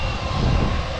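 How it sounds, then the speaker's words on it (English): Big jet airliner coming in to land behind Montego Bay Airport in Jamaica, a loud, steady roar of engines filling a brief moment, close overhead with no voices. "Big jet are coming in the one time."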